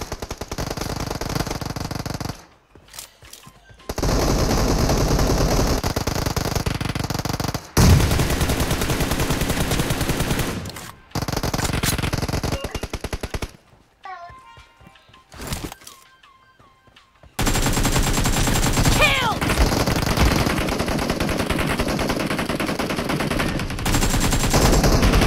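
Gunfire from a team deathmatch shooting video game comes in bursts of rapid automatic fire with single shots and brief pauses, loud and continuous for long stretches, with no talk.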